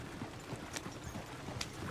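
Horses in the Red Dead Redemption 2 video game trotting with a steady, quick clip-clop of hooves, fairly close, over a faint background hum.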